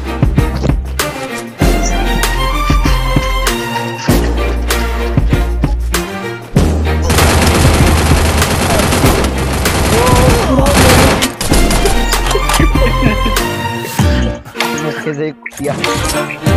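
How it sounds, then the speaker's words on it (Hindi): Gunfire in the mobile battle game Free Fire, with rapid repeated shots and bursts over loud game music and effects, dense and continuous with brief breaks. "इसी गन से मारना"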